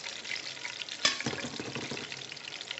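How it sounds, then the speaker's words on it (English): Chicken stew stirred in a hot pot, a steady sizzle with a sharp scrape of the spoon near the middle followed by soft bubbling and stirring sounds. "when you add all of this in, you're gonna stir this properly"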